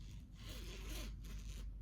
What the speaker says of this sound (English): It zips in the back.